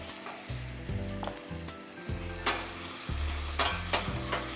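Garlic and ginger paste fries in a hot pan for Kolkata-style daab chingri, a loud continuous sizzle broken by repeated knocks and scrapes of stirring.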